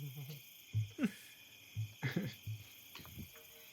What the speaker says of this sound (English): You can hear the owls occasionally.